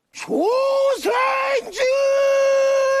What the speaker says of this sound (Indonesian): Dengan teriakan khas Jepang, Huang berhasil mengecoh para pejuang sipil.